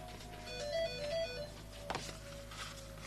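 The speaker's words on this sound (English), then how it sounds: "Someone's ringing me, of course they are." A phone ringing with a melodic electronic tone in a repeating pattern of short notes, moderately loud indoors, followed by a brief knock and quiet room noise, no voices.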